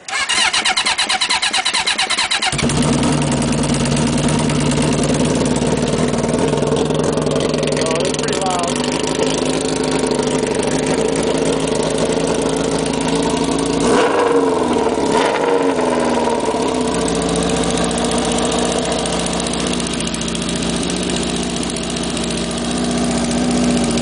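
A cold Honda CB750 K motorcycle engine starts and settles into a steady, rumbling idle that runs throughout, loud and close, with no talking.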